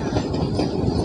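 A passenger train rumbles close by on the approach to Golra railway station near Rawalpindi, its wheels clattering rhythmically over the rails in a loud, steady roar with no talk.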